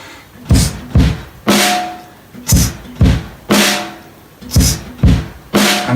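A drum pattern with a hi-hat playing quarter notes: regular, evenly spaced strikes about one per second, with brighter cymbal hits and low thuds, loud and close with no voice over it.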